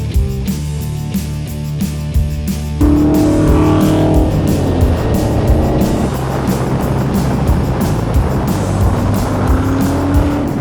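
A supercharged Superformance Ford GT40 with a transaxle, heard from outside as a loud engine roar that builds and sweeps past at speed in a flyby, leaving a lingering rumble with faint tire noise and no talking.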